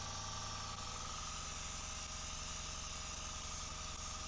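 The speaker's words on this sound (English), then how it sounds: "be very gentle, and we'll spray it from this side" Steady, continuous hiss of an airbrush spraying paint onto a 3D-printed lipless crankbait fishing lure, even and close, with no pauses and no talking.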